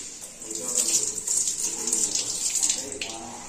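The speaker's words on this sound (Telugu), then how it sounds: "ఇప్పుడైతే దీన్ని బెండ అయితే ఒకసారి కడిగేస్తాను" Okra is rinsed under a running kitchen tap, a steady hiss of flowing water with splashing that rises and dips as the pods are turned under the stream, close and fairly loud throughout.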